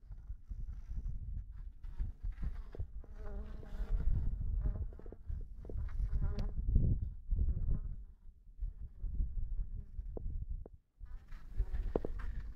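Honeybee colony in an opened Dadant-Blatt hive, a low, close buzzing hum with irregular swells and rustling handling noises, heard without talk.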